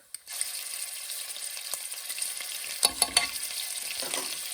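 Garlic and ginger hit hot oil in a pan for fish curry, giving a steady close sizzle with a few sharp crackles and stirring scrapes partway through.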